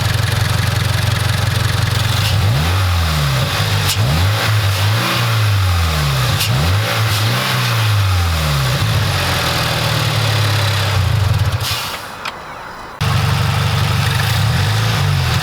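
A Subaru BRZ engine fitted with a K&N air intake idles, then revs repeatedly in rising and falling sweeps, drops out briefly near the end, and returns to a loud, close idle.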